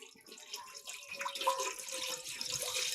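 Water poured into a vessel for jaggery while making paramannam, a continuous close splashing trickle that builds slightly over a few seconds.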